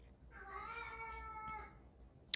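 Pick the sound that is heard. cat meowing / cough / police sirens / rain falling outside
cat meowing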